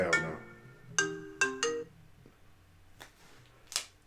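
An incoming call sets off a phone ringtone, playing short melodic bursts in a repeating pattern, moderately loud and close, with a few quieter clicks and rustles between the rings and no talking.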